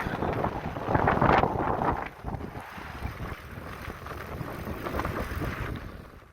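Wind buffeting a microphone during a long-distance bike ride, a loud continuous rumbling roar that swells at first and then settles into steady gusty noise, with no voices.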